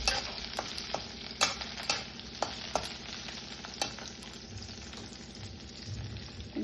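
Green chillies fry in a pan with a steady, close sizzle and frequent crackling pops, loud at first and settling slightly over several seconds.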